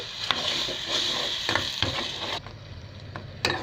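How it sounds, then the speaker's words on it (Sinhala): Tomato rasam paste fries in oil and is stirred with a utensil, a close sizzling hiss broken by several sharp scraping strokes, thinning out toward the end. "අපේ මේ තෙල් පෑදෙනතුරු අපි මේක හොඳින් මේ විදිහට කවදම් කරන ගමන් උයා ගන්න ඕන"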